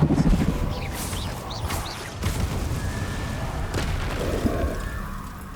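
A spell burst from the Hogwarts Legacy video game: a booming magical blast with whooshing sweeps and a rumbling low end, followed by shimmering tones and a steady ambient bed.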